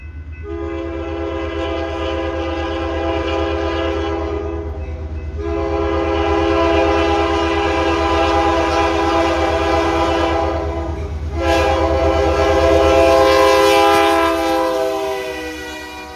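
Reading and Northern freight train led by a GP38-2 diesel locomotive sounds a long, loud multi-note horn in sustained blasts with short breaks, over a steady engine rumble as it rounds a corner.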